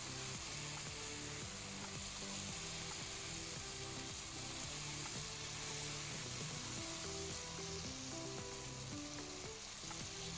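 Mashed tomatoes and masala fry in a pan for a white baingan dish, giving a constant dense sizzle with faint scraping and stirring knocks layered through it, steady and moderately quiet, no voices.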